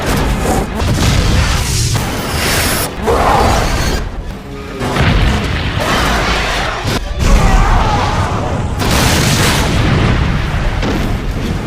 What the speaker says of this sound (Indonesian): disadari si Ivan akan terjadi ledakan hebat